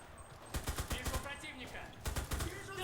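Submachine gun fire in the Enlisted video game's Berlin campaign: several quick bursts of rapid shots, crisp and fairly close, with a pause between clusters over a steady battlefield background.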